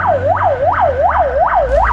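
An ambulance siren wails on the road, its pitch sweeping up and down in a steady rapid cycle about every 0.4 seconds, loud and close over a low engine rumble.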